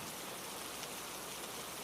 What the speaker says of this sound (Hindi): एक्सेसिव बारिश और फॉग में सब धुंधला हो गया